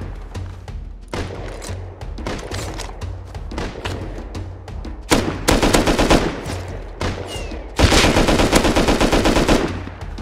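Gunfire in the survival game Rust: bursts of automatic weapon fire repeating in clusters, growing louder and denser toward the end with sustained rapid volleys.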